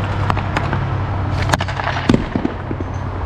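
Hockey snapshots with a limited edition Auston Matthews stick, several sharp cracking hits of stick on puck in quick succession over a steady low background rumble, no talking.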